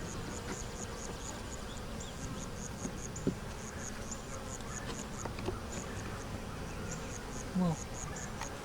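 Honeybees at the hive bring in pollen, a continuous close buzzing drone of many wings with individual bees flitting past, plus a few faint knocks and a brief chirp near the end.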